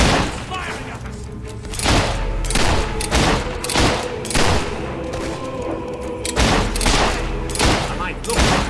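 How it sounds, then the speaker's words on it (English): Enemy gunfire in Fable 3 rattles in repeated loud volleys with booming thumps roughly every half second, up close, while a voice talks over it. "He's firing at us."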